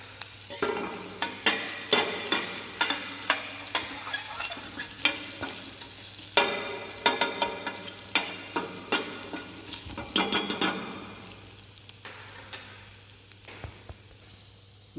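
Chopped ginger and green chilies fry in a hot pan for a mulligatawny soup, sizzling steadily under regular scraping strokes of a stirring spoon, close up and with no talking.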